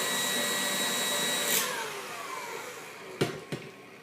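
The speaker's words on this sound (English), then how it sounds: "That's why it's good to have a stand mixer, because you want to make sure that you get it to stiff peaks." A stand mixer whipping egg whites to stiff peaks for a chocolate meringue gives a loud, steady motor whine that winds down and stops, followed by two sharp knocks.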